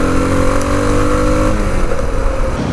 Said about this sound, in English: this DR feels a lot quicker. Yeah, it just rips when you hit the throttle